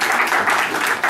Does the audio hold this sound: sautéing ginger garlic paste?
no